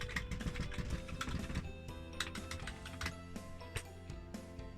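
Keys clatter on a repaired, fully working Commodore 16 home computer keyboard, a busy run of close, uneven clicks and taps over a steady low hum.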